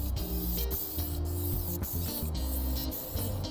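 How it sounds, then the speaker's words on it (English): An aerosol spray paint can hisses onto rusty wheels during a cheap refinishing job, with steady bursts of spraying broken by several short pauses, close and fairly loud. "If you hear the spray of the can start to change as you're going, you want to stop, pull the can back, wipe the nozzle off"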